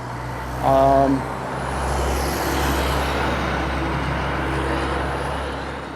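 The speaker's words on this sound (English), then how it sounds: "Let that truck pass." A truck rumbles past outdoors with a deep engine drone and a brief horn-like tone early on, a steady loud roar swelling then easing as it goes by.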